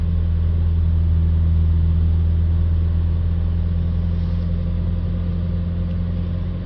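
Diesel engine of a Vauxhall Vivaro van held at raised revs during a DPF clean, a steady loud mechanical drone with a strong low hum that stays constant throughout with no speech.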